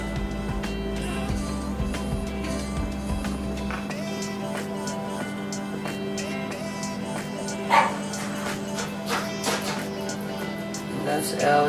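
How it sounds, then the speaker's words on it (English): Two small dogs in a home kitchen, heard mid-distance with a few short yips, whimpers and barks scattered over a steady background hum, with some talk mixed in. "And that's Ellie and Tinker, my 2 dogs"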